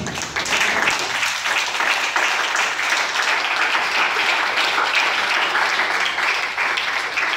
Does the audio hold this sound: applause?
yes